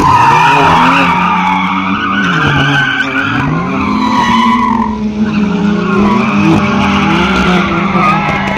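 A Porsche and a Skoda VRS racing on an autocross course, tires skidding and squealing loudly and continuously over revving engine tones that rise and fall.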